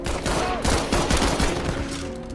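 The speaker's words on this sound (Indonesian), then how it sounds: "Tiba-tiba kedua petugas saling melepaskan tembakan." Rapid gunfire exchange between two officers in the 2023 action film Hypnotic, a dense burst of overlapping shots that stays loud and close throughout.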